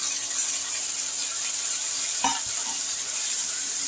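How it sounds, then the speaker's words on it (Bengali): Ground cabbage paste fries with spices in a pan, producing a steady soft sizzle broken by a brief scrape of stirring partway through. "এবার আমি খুব ভালো করে এটাকে সমস্ত উপকরণের সঙ্গে ভাজা ভাজা করব"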